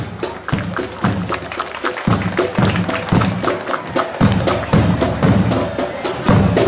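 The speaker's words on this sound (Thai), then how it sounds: "คณะสีเขียวขอเสียงปรบมือต้อนรับกับคณะสีเขียวด้วยครับ" Applause at a school sports day welcoming the green team, a dense crowd clapping loudly and continuously with a rhythmic thumping beat running through it.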